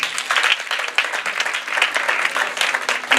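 A church congregation applauds during an evangelist's sermon, dense continuous hand-clapping from a large crowd that fills the room at a loud, even level throughout.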